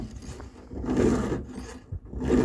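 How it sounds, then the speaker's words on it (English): A hand file rasps against a chainsaw chain tooth while it is sharpened, likely on a Stihl MS261 saw; two or three close, gritty filing strokes rise and fade over a low background. "the file, you pull the file back up at a 45-degree angle like this, and you catch the tooth"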